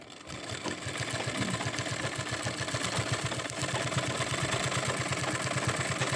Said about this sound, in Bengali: এইভাবে মধ্যিখানে সেলাই করে নেব